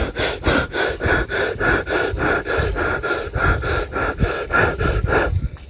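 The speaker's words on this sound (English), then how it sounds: "So, getting the breathing pattern," Rhythmic breathing demonstrated at close range: about a dozen quick, even inhale-exhale cycles in a steady pulse, loud and alone before stopping abruptly.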